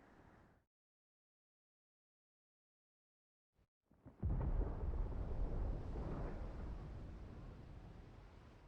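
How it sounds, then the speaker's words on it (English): Thunder in the video game Final Fantasy XVI: after a few seconds of near silence, a low rumbling roar builds suddenly and rolls on loudly, slowly fading. "Sounds like thunder."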